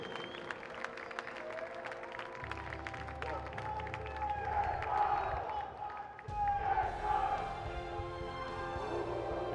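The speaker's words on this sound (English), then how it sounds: "How about a round of applause for the gentlemen from the Volkskill Sharks?" Crowd applause and cheering for a winning boys' swim team at a national junior short course swimming championship awards ceremony, moderately distant and mixed with a sustained tonal sound and background noise.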